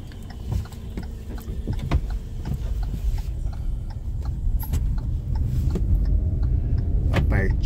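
A car engine runs with a steady low rumble throughout, slowly growing louder, with faint clicks and rattles over it, in a driving-school car during parking practice.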